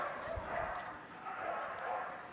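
An excited medium-sized dog barks and yips at a Crufts agility jumping final, short repeated barks ringing out in a large arena beneath ongoing commentary.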